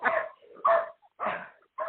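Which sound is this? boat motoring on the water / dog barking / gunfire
dog barking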